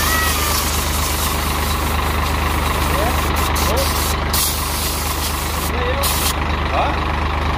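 A truck engine labours along a dirt road, a steady loud low rumble filling the whole stretch, with people talking and shouting over it.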